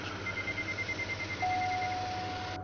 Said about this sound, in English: Little beep.